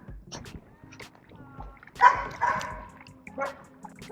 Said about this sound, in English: Is there a dog in the water?